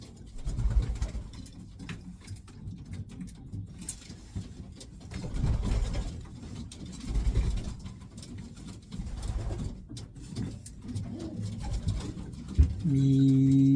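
Soft, low cooing from an imported pigeon and its young repeats faintly throughout, with a steady background hum and occasional rustling close by.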